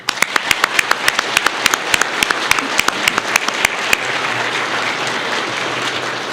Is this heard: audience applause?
yes